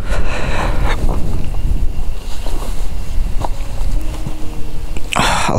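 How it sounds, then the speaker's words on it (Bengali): Strong wind gusting across the top of Keokradong at about 987 metres on Bangladesh's highest motorable road, buffeting the microphone in a loud, continuous roar with a sharper gust at the end. "খুব বাতাস জায়গাটায়"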